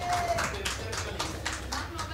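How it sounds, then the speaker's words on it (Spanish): Clapping from the audience at a radio station karaoke festival in Aruba, fairly quiet and uneven, with several distinct claps standing out over background talk and crowd murmur. "un aplauso"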